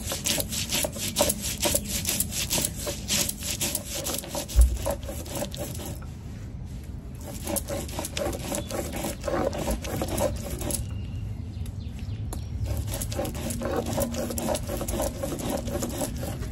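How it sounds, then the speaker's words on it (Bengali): Green chilies and mustard seeds being ground into a paste on a stone, a steady rubbing, scraping rhythm of strokes that pauses briefly midway and then continues, close and fairly loud with no talking. "দেখো এখানে নিয়েছি 3টে কাঁচা লঙ্কা আর একটু সর্ষে, তো এটা বেটে নেবো।"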